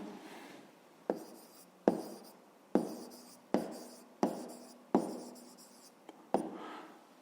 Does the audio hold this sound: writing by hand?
yes